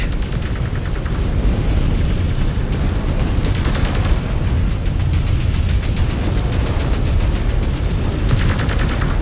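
A battle mech blows up in the MechWarrior 5 Clans video game, as heavy booms and gunfire roll continuously under a dense, loud, steady wall of noise.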